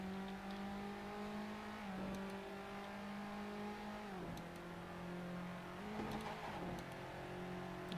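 A single-seater race car's engine in the Assetto Corsa racing game drones steadily at high revs, its pitch dropping at a few gear changes, loud and close with no talk.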